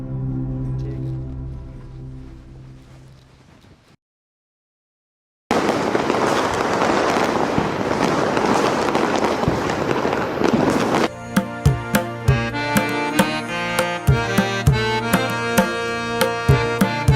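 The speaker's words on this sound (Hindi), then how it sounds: "तेरे को मैं बोल के गया था कि तेरे को पटाखे नहीं चलाने" Firecrackers burst indoors or nearby, first as a dense crackling roar and then as a run of sharp, separate bangs at a steady rhythm. Other sounds are heard before the bursts, and no one speaks during them.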